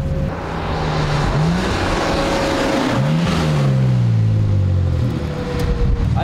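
A BMW M4 Competition fitted with a Remus exhaust revs loudly and close by, its engine note rising and falling in several sweeping pulls over a rough, throaty rumble.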